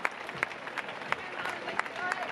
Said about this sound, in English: Let's give it up for Nikki.